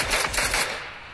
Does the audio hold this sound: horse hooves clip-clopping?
no